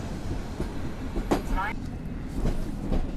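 The Marszałek Piłsudski passenger train pulls out of Warszawa Zachodnia station in snow, a low rumbling roll with faint clattering wheels and a brief squeal, heard at platform distance under a speaking voice.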